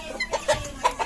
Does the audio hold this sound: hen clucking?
yes